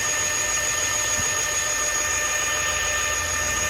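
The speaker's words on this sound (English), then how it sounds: "Now turn your beater on just for 1 minute" A stand mixer whirs at steady speed as it beats pound cake batter, a constant hum with a high whine held through the whole stretch, with no talk.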